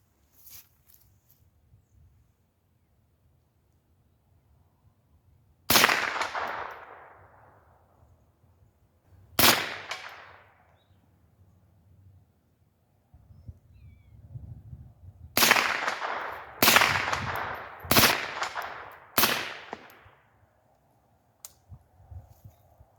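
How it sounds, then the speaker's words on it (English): .22 rifle shots from a CMMG Bravo 22 conversion kit ring off steel targets at the range: six sharp cracks with short tinny decay, spaced irregularly, two alone then four in quick succession, over faint background rumble. "tink, tink sound as I hit the steel"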